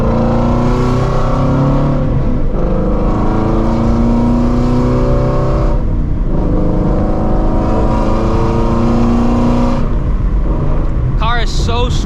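A Shelby GT350 with catless long-tube headers revs hard while driving, its loud, continuous engine roar rising and falling in several pulls, close and dominant throughout, with a voice speaking over it.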